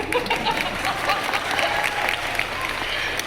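Audience applause at Marina's Eat The World book release event in San Francisco, a dense steady wash of many hands clapping throughout with faint crowd murmur underneath.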